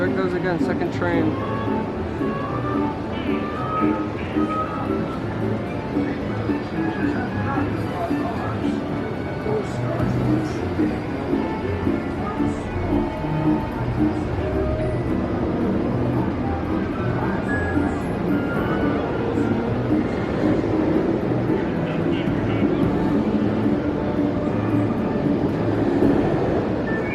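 VelociCoaster roller coaster train making a night test run at Universal Orlando, a steady rumbling roar that persists throughout, with people talking over it.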